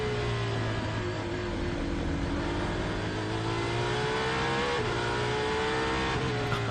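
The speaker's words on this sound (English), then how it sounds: "That V12 just sounds so perfect in this series" The Aston Martin Valkyrie V12 hypercar races in a WEC event in Qatar: a loud, continuous high-pitched engine wail at sustained high revs, with slight pitch shifts as it changes gear, heard from on board.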